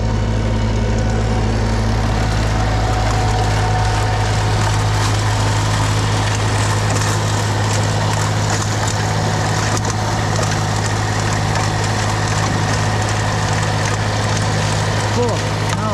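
A tractor engine runs steadily through a heavy snowstorm, a loud continuous low idle-like drone throughout, with people talking nearby over it.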